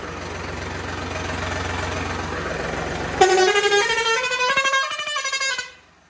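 A tractor engine runs with a steady low diesel rumble, then a loud horn-like tone with strong harmonics cuts in partway through, holds for a couple of seconds and stops abruptly.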